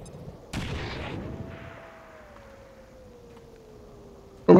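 In the XCOM 2 video game, a frag grenade blast bursts out loudly, then a long fading rumble with a drawn-out falling tone follows, and a sharp loud crack of gunfire cuts in at the very end.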